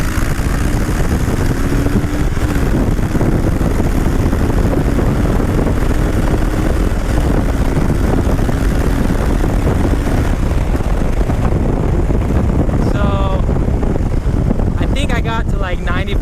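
A Harley-Davidson Switchback motorcycle accelerates hard down a drag strip, its engine a loud, continuous roar heard from on board under heavy wind rush, with rising pitch as speed builds.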